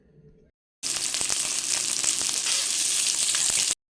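Shallots, onions, garlic, green chillies and ginger hitting hot oil in a pan, a loud, dense, continuous sizzle that bursts in after a brief quiet moment and holds steady for about three seconds, heard close up.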